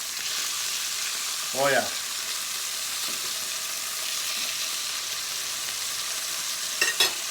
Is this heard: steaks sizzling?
yes